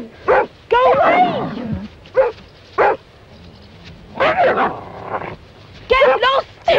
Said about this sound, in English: And that dog.